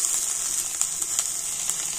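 Chopped tomato and onion fry in hot oil with a steady close sizzle, a bright hiss carrying a few crackling spits, and no voices over it.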